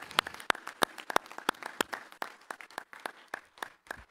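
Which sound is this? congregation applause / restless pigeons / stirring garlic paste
congregation applause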